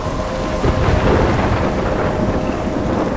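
Thunderstorm with heavy rain in the video game Life Is Strange, a steady loud roar of rainfall with deep rumbling thunder rolling underneath throughout, no voices.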